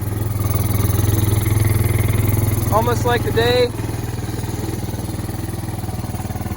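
A long-parked Kawasaki Bayou ATV engine idles steadily after years of storage, a close, even, low putter throughout, while someone talks briefly over it.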